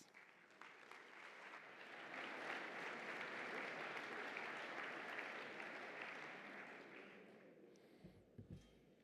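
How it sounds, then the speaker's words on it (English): Audience clapping to welcome a professor before a talk at a project conference, swelling to a full steady round of applause, then thinning out near the end with a few faint sounds as the room settles. "let's give him a round of applause"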